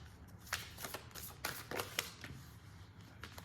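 A deck of tarot cards being shuffled up close, with a quick run of papery riffles and flicks in uneven bursts, fairly quiet and with no talking.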